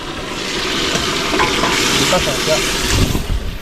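Fish and crab frying in a pan at an outdoor riverside cooking spot in the Sundarbans, a loud continuous sizzle with stirring scrapes and faint voices under it.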